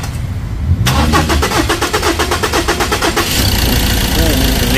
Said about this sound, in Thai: หลังจากไล่น้ำมันเสร็จก็สตาร์ท